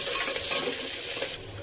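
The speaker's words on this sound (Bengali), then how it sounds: "পেঁয়াজটা একটু লাল লাল করে ভেজে নেব" Onions frying in a pan until reddish-brown, a short burst of bright crackling sizzle that eases off toward the end.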